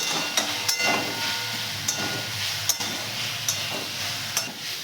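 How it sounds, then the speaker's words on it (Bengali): Water spinach (kolmi shak) frying in a pan with salt, turmeric and sugar, a continuous sizzle broken by sharp clicks of a spatula stirring against the pan, close up. "এগুলোকে সব শাকের সাথে ভালো করে মিশিয়ে নিয়ে ভাজবো"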